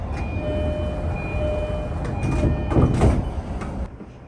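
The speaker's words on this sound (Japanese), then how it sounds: "発車時刻になったら扉が閉まります。" The doors of a JR East Itsukaichi Line train at Haijima station slide shut before departure. Hissing and a few thuds rise over a steady interior hum, then the sound drops quieter.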